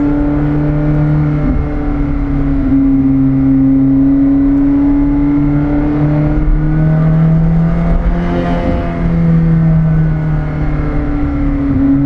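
McLaren 765LT supercar engine droning steadily at close range from inside the car, with a strong low tone that rises slightly in pitch as it briefly pulls harder, then eases off.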